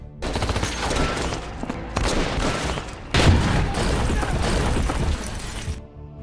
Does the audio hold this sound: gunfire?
yes